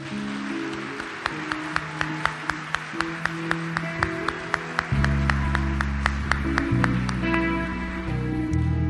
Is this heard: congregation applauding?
yes